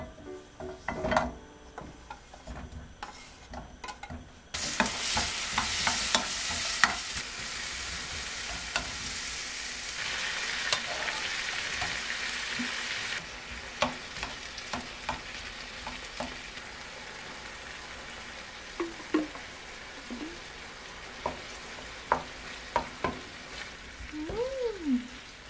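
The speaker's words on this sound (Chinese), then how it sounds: "煎啲番茄先。" Tomatoes fry in a pan. A loud burst of sizzling flares up after a few seconds and then settles to a quieter hiss, with scattered clicks and scrapes of a utensil against the pan.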